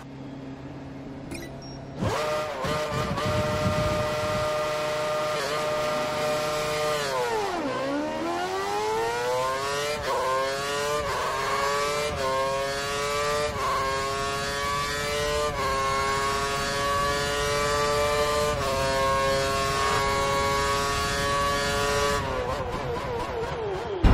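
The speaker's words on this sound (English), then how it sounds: "Head down the track, accelerating past 160 miles per hour, then brake so that you come to a complete stop in the designated area." An F1 car in the F1 2013 racing game howls as its engine pulls through the gears down the track, steady and loud. The pitch climbs and then drops at each shift, with no voices over it.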